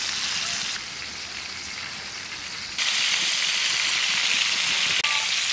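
Duck legs fry in a pan of rendered fat with a steady, close sizzling hiss that grows louder partway through and keeps a dense, even crackle to the end.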